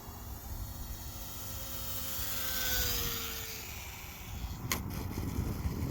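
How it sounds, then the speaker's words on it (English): An Eachine Mini P-47 Razorback RC plane's electric motor whines at full power for takeoff, a steady high buzz with a rising tone, ending in a couple of sharp clicks. "I just gave it full up elevator and full power for the"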